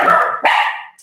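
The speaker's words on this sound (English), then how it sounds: "That's our dog saying hello to y'all as well." A dog barking at home: two loud, close barks in quick succession, the second one longer and tailing off, with no talking over them.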